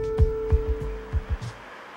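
Trains pass at Mengen station on the Ablachtalbahn, where a Regional-Express and an Interregio-Express cross: several low, thudding wheel clacks at uneven intervals ride over a steady electrical hum before fading away.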